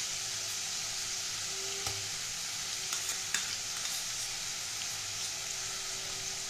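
Onion, ginger and cumin spice pastes fry steadily in oil in a pan, a constant soft sizzle with a few faint stirring clicks and scrapes, heard alone.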